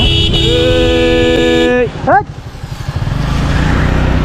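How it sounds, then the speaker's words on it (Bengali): A motorcycle rides the road from Kachua toward Goripur in Bangladesh: held horn tones blare for the first couple of seconds, then steady wind and engine road noise fill the rest. "আমি এখন কচুয়া থেকে গরিপুরের রাস্তায় বাইক চালাচ্ছি"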